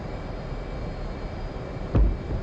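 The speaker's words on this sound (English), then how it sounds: "Run up the engines." F/A-18C jet engines running up in a DCS World flight simulation, a steady broadband roar with one short louder thump near the end, no voices.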